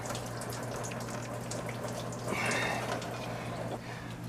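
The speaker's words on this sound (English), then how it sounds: "Yet again, more antifreeze coming out of there." Antifreeze draining out of an Astro van engine, a continuous close trickling and splashing of liquid with a brief stronger gush partway through.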